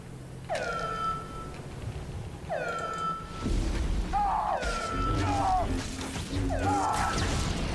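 A cat meows repeatedly in several drawn-out, rising-and-falling cries, fairly close and loud, with thuds and clatter in between and no talking.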